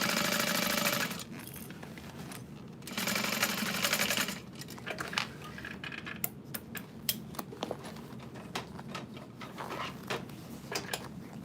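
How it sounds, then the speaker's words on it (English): A sewing machine stitches a vinyl vanity bag shut, running in steady loud bursts with brief pauses, and a few clicks and handling knocks come toward the end. No voices. "so I'm sewing that shut"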